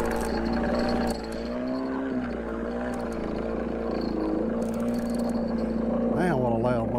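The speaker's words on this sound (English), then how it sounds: "Man, what a loud motor over there." A loud boat motor runs nearby on the water during a fishing trip, a steady, droning engine hum that holds throughout with a slight shift in pitch near the end.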